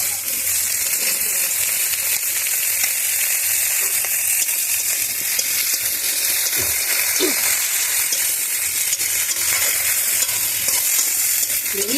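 Okra sizzling and frying in a pan with salt, a steady loud hiss throughout with occasional stirring scrapes.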